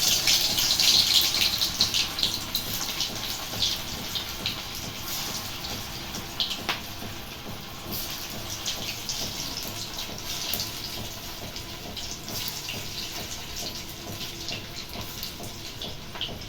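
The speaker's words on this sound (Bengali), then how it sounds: "তেলটা আমার গরম হয়ে গেছে, আমি আস্তে করে দিয়েছি।" Boiled rohu fish and boiled potatoes fry in hot oil with a steady, dense hiss and crackle, loudest at first and then settling into an even sizzle throughout.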